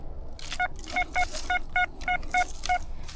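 Series of short electronic tones from a metal detector signalling a find near wartime trenches, about eight evenly spaced clear beeps in quick succession, fairly loud and close with no talking.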